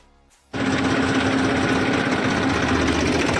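A tractor engine starts up and runs steadily, a loud, close, rough diesel drone holding constant after a quiet moment, with no talking.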